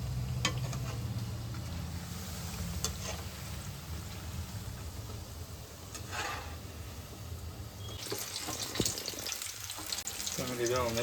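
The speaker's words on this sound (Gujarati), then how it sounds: "જો મેથીના ભજીયા બનાવવાનું ચાલુ કરી દીધું જો." Methi bhajiya, fenugreek fritters, frying in hot oil, a steady close sizzle and bubbling that grows brighter toward the end, with faint voices in the background.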